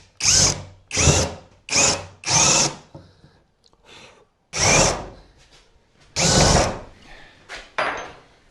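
A power drill drives screws into wood for homemade dowels cut from a broom handle, with seven loud, close bursts of whirring, some short and choppy, separated by brief pauses.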